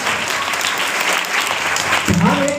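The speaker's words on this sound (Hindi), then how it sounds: "एक बार ताली आप अपने लिए।" A room full of people at a disaster-preparedness event claps loudly and continuously, a dense burst of applause, with a voice briefly starting up near the end.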